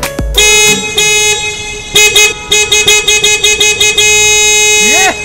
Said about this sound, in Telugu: అసలు ట్రాఫిక్ ఇలా ఆగున్నప్పుడు హార్న్ కొట్టకూడదని తెలియదు బాబు?